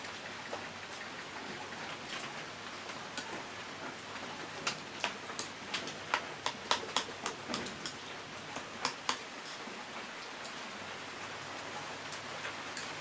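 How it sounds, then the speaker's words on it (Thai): Rain falling outdoors, a constant hiss of rainfall with scattered sharp drops ticking on a nearby surface, clustered in the middle, steady and moderately close with no talking. "ข้างนอกฝนตก"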